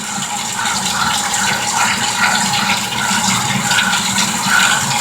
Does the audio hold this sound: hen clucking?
no